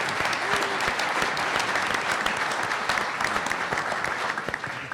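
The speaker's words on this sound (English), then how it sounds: "Let's give our board a round of applause." A room of Rotary Club members in San Antonio gives the club board sustained applause during a mock board session. Thick, steady clapping from many hands is heard up close and fades a little near the end.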